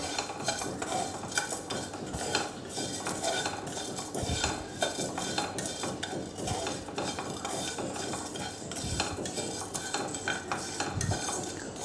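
A spoon scrapes and clinks steadily against a metal pan while a thick grated coconut mixture is stirred and roasted, with no voices.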